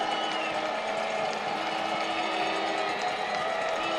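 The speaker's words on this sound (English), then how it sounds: "Good crowd on hand here tonight, Chris." A stadium crowd of about 11,000 at a night soccer match, a dense, steady roar of murmuring and distant cheering throughout with no single voice standing out.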